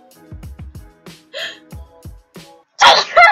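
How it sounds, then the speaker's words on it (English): A single sharp sneeze bursts out close to the mic indoors, loud and sudden, following a few soft breathy inhales and small vocal sounds. "I'm gonna sneeze."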